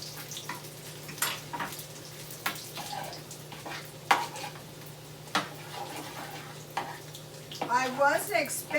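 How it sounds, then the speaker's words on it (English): Homemade onion rings frying in oil, a soft steady crackle and sizzle with scattered sharper pops and clatters, fairly quiet. "wasn't expecting these to fry up so fast"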